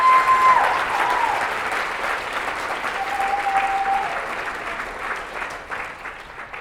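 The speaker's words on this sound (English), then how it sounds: "Let's give them a round of applause, guys." A conference audience applauds a volunteer translation team, a steady wash of many hands clapping at moderate loudness, with faint voices briefly rising through it.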